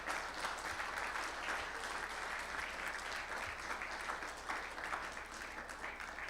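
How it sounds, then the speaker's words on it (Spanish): Church congregation at a Spanish-language Sunday morning service claps in sustained, even applause, heard at a moderate distance with no speech over it. "¿Cuánto le pueden dar un aplauso al Señor en esta mañana?"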